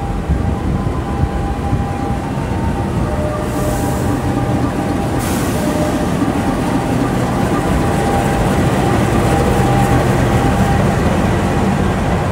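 A passenger train, heard from a front executive-class seat, rolls along the rails with a loud, constant rumble and rattle, a steady low drone underneath and a faint whine throughout.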